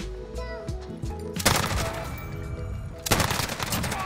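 Bursts of fire from a Bruen rifle loaded with tracer rounds in the video game Modern Warfare: two loud, dense bursts of rapid shots, each after a quieter stretch with faint game sounds.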